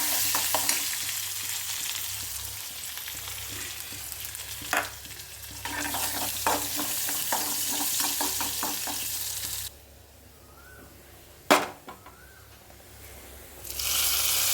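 Chopped small onion frying in a pan with popped mustard seeds for a prawn, mango and jackfruit seed curry, a loud steady sizzle broken by stirring scrapes, then dropping to a quieter hiss with a sharp clank before surging again.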